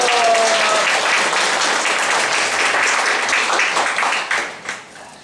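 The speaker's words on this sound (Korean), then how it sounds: "힘찬 박수 주십시오." A crowd at a Korean shuttle bus workers' union general assembly applauds to welcome a guest speaker, a dense, steady wash of many hands clapping that trails off near the end.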